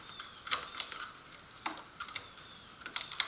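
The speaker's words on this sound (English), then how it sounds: "I'm electing to remove the webbing simply by cutting it off" Old cane webbing being cut away from the wooden frame of a Mad River Freedom canoe seat, heard as a few sparse, faint, crisp snips and clicks spread over a quiet background.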